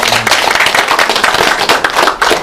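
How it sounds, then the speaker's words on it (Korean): Lecture audience at a Seongbuk-gu district office constitution class claps loudly and close, a dense run of individual hand claps with a rapid, uneven rhythm and no talk. "네, 박수"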